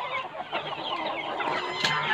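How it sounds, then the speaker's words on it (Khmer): Mongolian breed chickens on a farm cluck and cackle nearby in overlapping bursts, a busy flock chatter with one sharper squawk near the end and no talking. "បាទនេះគឺជាប្រភេទមាន់ម៉ុងហ្គោល"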